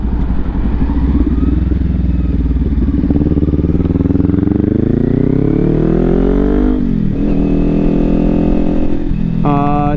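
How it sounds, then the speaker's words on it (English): A Kawasaki Ninja 400 engine blips and revs repeatedly, pitch climbing and dropping as the rider matches revs, loud and close with a steady mechanical drone underneath. "You're revving the engine, but you're not just revving it for no fucking reason."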